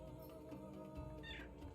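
A pet cat meows briefly during a tabletop fantasy game stream, one short faint call rising near the end over a steady low background hum.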